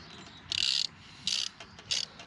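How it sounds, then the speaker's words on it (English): Ratchet wrench tightening the bolts of an oil filter cover on a Suzuki DR 200 SE motorcycle, three short, sharp clicking bursts close by, separated by brief pauses. "Go ahead and take your wrench."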